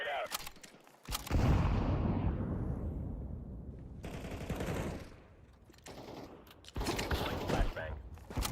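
A grenade explodes in Counter-Strike 2, a loud booming blast that trails off in a long rumble, followed by more bursts of gunfire and blasts close by.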